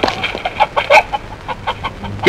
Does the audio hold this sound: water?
no